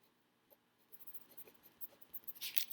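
Pencil scratching across paper while working algebra problems, a series of light, soft strokes that grow busier and brighter toward the end, quiet and close with no talk.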